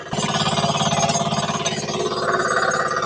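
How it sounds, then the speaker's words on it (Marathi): A back rotor farm machine used for earthing up crops runs at idle with zero throttle. Its engine gives a steady, close, throbbing rumble with an even rhythmic pulse throughout. "0 ऍक्सिलेटर वर सुद्धा चांगल्या प्रकारे हे बघू शकता मशीन चालत आहे"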